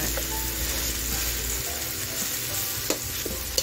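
Fresh tomatoes being squeezed and crushed as they sizzle in a hot pan for pork caldereta, a steady frying hiss with a few soft clicks and taps near the end.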